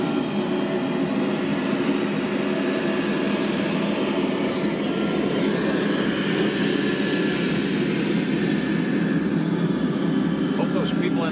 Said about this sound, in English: That right there is a Beechcraft 1900 right there.